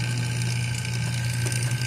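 Vacuum pump running on a vehicle's AC system with high-side valve open, a steady loud mechanical drone with a strong low hum and broadband hiss, continuous and close throughout.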